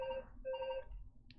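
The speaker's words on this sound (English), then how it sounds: "Oh, there goes the house phone." A house phone rings in two electronic trilling bursts, clear and fairly close, with no one talking over it.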